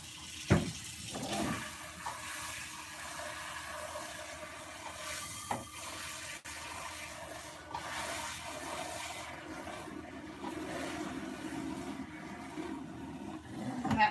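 Water runs into a kitchen sink while a chocolate-coated baking dish is washed with soap, a wavering tap flow with occasional knocks and clatters of the dish, fairly close and without talk.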